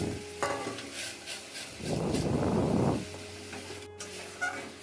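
Jute leaves dropped into hot tempering oil burst into a loud, broadband sizzle lasting about a second, then settle back to a quieter background crackle with light kitchen clatter.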